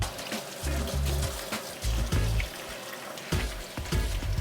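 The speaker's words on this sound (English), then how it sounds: "it's gonna make it a lot easier to rinse out all the sand and dirt and grit that's in the leaves" Running water rinsing sand and grit out of cut leeks, splashing and trickling in uneven bursts as the leaves are moved under the stream, close and fairly loud.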